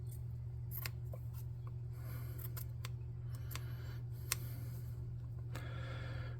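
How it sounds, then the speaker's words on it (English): Scissors snip through craft material being cut into short lengths for miniature tabletop-game camp blankets, a scattered series of crisp close cuts over a steady low hum. "Cut these into appropriate lengths"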